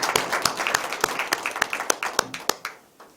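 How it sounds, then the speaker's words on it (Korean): A small lecture audience claps in thanks, with distinct, fairly regular hand claps, loud and close, that thin out and die away toward the end. "감사의 박수를 같이 올리도록 합시다"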